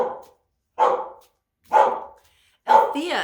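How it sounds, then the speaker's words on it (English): A dog named Althea barks in three sharp, loud bursts spaced about a second apart, the last one trailing into a whine, close by indoors. "I was really hoping to avoid the barking today."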